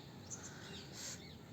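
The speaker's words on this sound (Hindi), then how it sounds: "और चिड़ियों की जो ये चहचहाट की आवाज़ है ना," Faint, brief bird chirps ring out on a misty morning near a park, a couple of high tweets over a quiet outdoor background.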